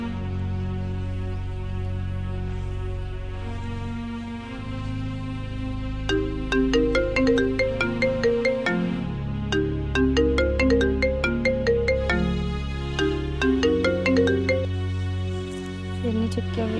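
A phone ringtone plays a bright, repeating melodic tune for most of the span, loud and clear with no talking over it, while someone waits for a call to be answered.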